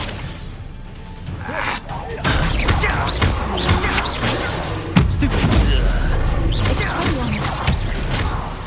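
Spell explosions crash and boom in Hogwarts Legacy, with a couple of sharp blasts amid continuous combat noise and a character's voice calling out over the mix.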